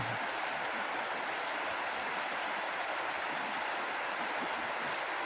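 The Bear River flows at about 600 cfs in January, a steady, dense rushing wash of water with no pauses and no voices.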